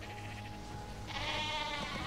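A sheep bleats in the video game ARK, a wavering nasal cry that swells and holds near the end, heard clearly over a constant low game ambience.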